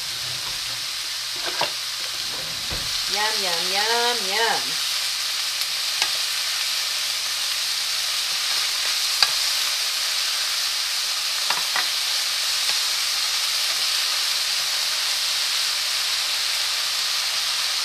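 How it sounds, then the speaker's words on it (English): Steady sizzling and crackling of mushrooms sautéing in a hot pan for japchae, with a short hummed vocal near the start and occasional light clinks. "Then next I'm going to start sauteing my mushrooms."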